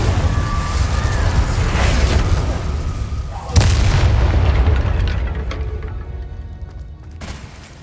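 Incendio fire spell cast in Hogwarts Legacy, a sustained roaring blast with a sharp booming burst midway and another near the end, loud and continuous with no speech.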